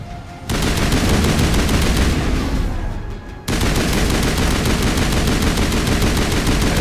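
Loud, sustained automatic gunfire in the Mass Effect video game, rapid repeating shots in long bursts with a brief lull in the middle before firing resumes at full intensity.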